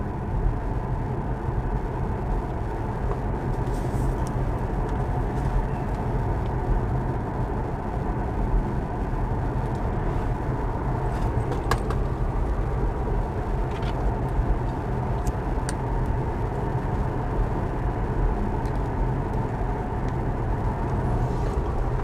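A car nicknamed the Millennium Falcon, with a broken heater, drives along the road to Alvdal. A steady low engine and tire rumble runs throughout the cabin with no break, and no one speaks.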